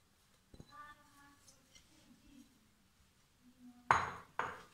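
Ground dal and finely chopped arbi leaves being stirred together in a bowl, with a few sharp, clear clinks of a spoon against the bowl, including two louder knocks near the end, over faint background rumble.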